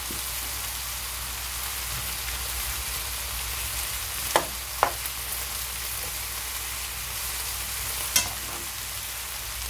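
Carrots, potatoes and aubergine fry in a pan with a continuous loud sizzle, and a few sharp scraping knocks from stirring stand out above it.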